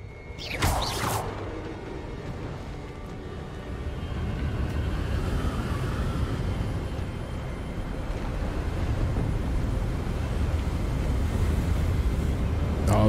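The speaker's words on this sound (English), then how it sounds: "getting windy" Wind gusts whoosh in Hogwarts Legacy, a steady windy rush that swells gradually over the clip, with a brief brighter burst near the start.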